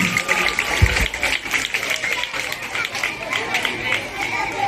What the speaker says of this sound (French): Donc on applaudit pour Monsieur Prince, on fait du bruit pour lui.